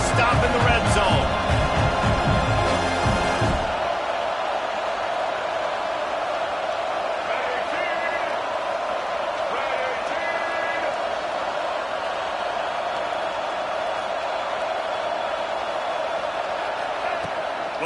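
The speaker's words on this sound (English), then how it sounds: "The crowd getting behind this defense as they try to get a stop in the red zone." Steady roar of a large stadium crowd at a college football game, Alabama against Ole Miss, rising behind the defense during a red-zone stand; a loud burst of noise fades into a continuous far-off din under a commentator's voice.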